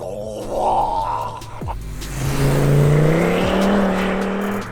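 A powerful car engine roars and climbs in pitch as it accelerates hard, the revs rising steadily and loud up close, with a brief gear change midway.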